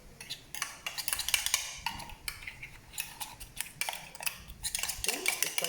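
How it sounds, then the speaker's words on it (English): Metal spoon clinking and scraping in a container while scooping ground powder into a homemade smoothie, a series of sharp close taps and scrapes with quiet background. "I'm going to scoop that into my smoothie."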